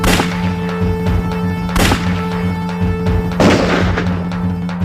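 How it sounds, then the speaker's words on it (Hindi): A gunfire sound effect portraying indiscriminate firing on a crowd in Ayodhya in 1990: loud, sharp shots and booms, a few seconds apart, over a steady droning background. "कार सेवकों पर उत्तर प्रदेश सरकार के आदेश पर अंधाधुंध गोलियां चलाई गईं।"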